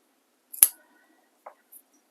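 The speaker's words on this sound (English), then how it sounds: "I'm just going to snip off the ends at a diagonal" A single crisp scissor snip through ribbon ends while finishing a simple ornament, followed by a couple of faint small clicks in an otherwise quiet room.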